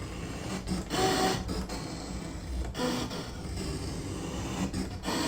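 A ScanNCut cutting machine slicing cardstock, giving a steady, close mechanical whir with motor hum and brief carriage shifts, running continuously and alone.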